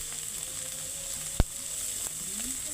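Tomato frying together with egg in a pan for egg tadka dal gives a faint, steady sizzle, with one sharp tap of a utensil midway.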